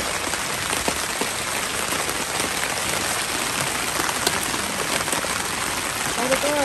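Steady rain patters densely on surfaces around a campsite in Canada, a continuous hiss of close drops with no letup, while voices speak faintly near the end.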